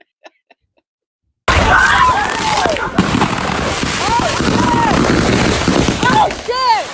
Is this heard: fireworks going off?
yes